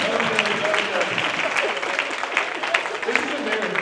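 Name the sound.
audience applause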